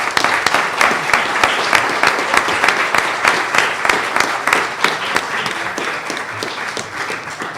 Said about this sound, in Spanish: Un aplauso para Miguel Ángel González Martínez.